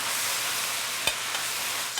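Food sizzling in a pan with sesame oil, a steady close hiss of frying with a couple of soft clicks of stirring, no talk.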